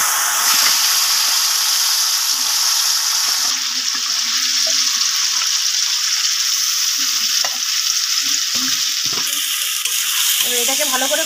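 Marinated chicken hits hot oil in a pan for a Bengali chicken curry, giving a loud, steady sizzle that runs the whole way through, with occasional scrapes and clatter from stirring.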